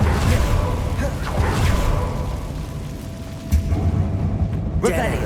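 The Confringo blasting spell going off in Hogwarts Legacy, a run of booming explosive bursts with whooshing rumble and a sharp pop near the end, mixed with game sound and brief character speech.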